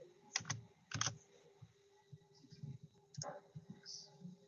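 Computer keyboard keys typed in short bursts of clicks and taps while entering HTML code, close and fairly quiet, with pauses between clusters of keystrokes.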